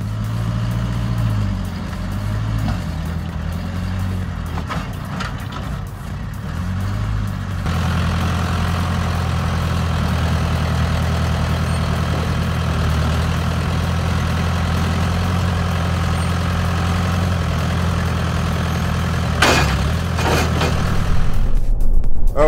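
A Toyota Tundra pickup towing a dump trailer hauling sandy loam drones with a steady low engine hum, shifting to a constant heavier cruising tone with road noise that swells toward the end.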